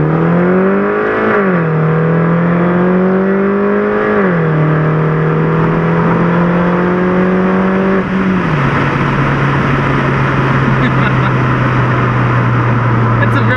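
A Mini Cooper S R56 with traction control off accelerates hard, its engine note climbing through the gears with a brief dip at each shift, loud and close from inside the car.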